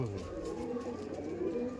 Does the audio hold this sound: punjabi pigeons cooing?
yes